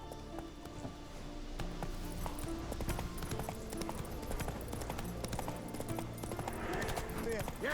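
Roach, the horse in The Witcher 3: Wild Hunt on PS5, gallops with steady rapid hoofbeats over a constant game soundscape, with a voice talking over the top.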